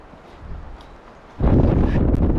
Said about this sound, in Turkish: Abi bildiğin rüzgar beni ittiriyor beni